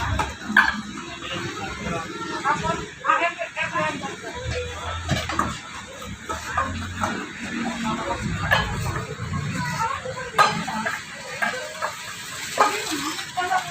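A dog barks and yips a few times in short bursts amid a cluttered indoor shop setting, partly under people talking and occasional knocks of items being handled.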